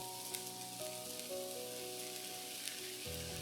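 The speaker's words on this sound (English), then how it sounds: "Next, add in the shrimps, soy sauce, pepper," Shrimp, soy sauce and pepper hitting a pan of stir-fried cabbage with dried shrimp, a soft, even sizzle with faint crackles under a steady background hum, quiet and close, nobody speaking.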